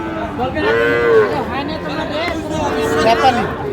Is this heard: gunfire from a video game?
no